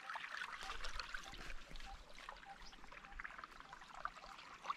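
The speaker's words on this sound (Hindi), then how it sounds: "इसमें जा रहा है पानी गेहूं में।" Irrigation water trickles and splashes steadily into a wheat field channel, a continuous close babbling flow with small gurgles and no talk.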